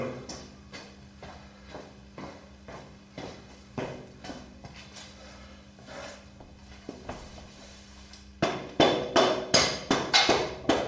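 A small nylon hammer taps repeatedly on a Yamaha Virago 250 rear wheel during installation, a string of sharp, close knocks at an uneven pace, growing louder and quicker near the end over a faint steady hum.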